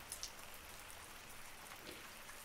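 Rain falls as a soft, steady patter with a few distinct droplet ticks, faint and even throughout with no voices.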